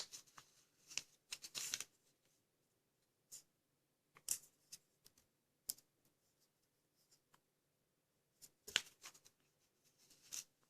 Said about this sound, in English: we're going to do a valley fold from here to here